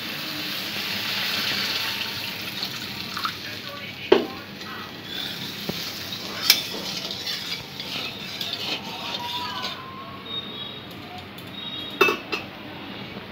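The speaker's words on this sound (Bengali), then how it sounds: "এরপর আমি দিয়ে দিচ্ছি পরিমাণ মতো জল।" Water pours into a pan of cooked-down spiced masala with a soft steady rush, while utensils clink and tap against the pan now and then.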